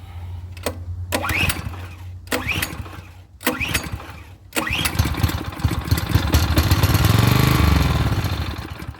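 A pressure washer's small petrol engine, primed with premix through the spark plug hole, sputters through several short pulls and cranks, then catches and runs steadily at a loud, close roar.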